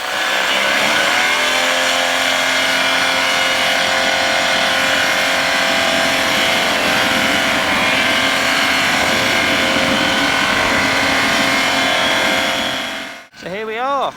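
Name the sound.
microlight aircraft engine during takeoff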